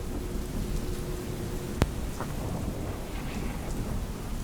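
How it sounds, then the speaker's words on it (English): Steady rain falls in a constant hissing wash, broken by one sharp crack of nearby thunder partway through before the downpour carries on. "accompanied by rain and thunder"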